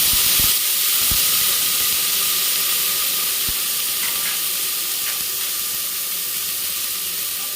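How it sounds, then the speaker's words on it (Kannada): Garlic and raw plantain frying in oil, a loud, steady hissing sizzle throughout, with a few sharp knocks of a utensil early on and faint clinks later. "ಬಾಳೆಕಾಯಿ ಇದೆಯಲ್ಲ, ಅದನ್ನು ಸ್ವಲ್ಪ ಎಣ್ಣೆಗೆ ಹಾಕಿ ಫ್ರೈ ಮಾಡ್ಕೊಳ್ಬೇಕು."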